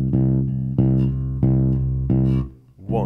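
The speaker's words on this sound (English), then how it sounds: "just try playing an eighth note pedal bass line on any note" Fingerpicked guitar plays an eighth-note pedal bass line on C, with even, sustained low notes and periodic accented plucks. It sounds close and clear with no talking.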